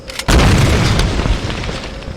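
A grenade blows up in the video game Tomb Raider Definitive Edition as a loud, close, booming explosion whose rumbling roar tails off over about two seconds.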